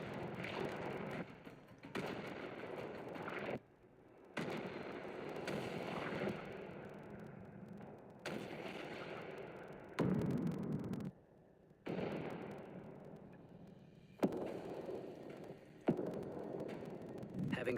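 Artillery fire and explosions in combat footage of an attack on infantry in ruins, sharp bursts and booming blasts recurring every couple of seconds, separated by abrupt quiet gaps, moderately distant.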